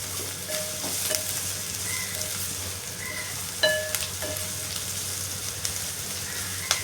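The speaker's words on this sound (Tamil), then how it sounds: "வெங்காயம் இன்னும் கொஞ்சம் நல்லா வதங்கணும்." Onions sautéing in a pan for urundai kulambu, a steady close sizzle with a few sharp scrapes and taps of a spoon stirring against the pan.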